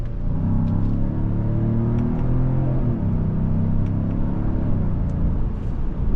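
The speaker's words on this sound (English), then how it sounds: "Let's go to sport and let's shift with the paddles and let's see how we do." Engine of a Genesis GV70 2.5T in sport mode as the driver shifts with the paddles: a steady loud rumble whose pitch climbs, drops sharply near the middle at a shift, then climbs again.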